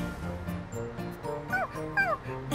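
A small dog whimpers and yips, with soft whines early on, then a couple of higher, rising squeals near the end, close by.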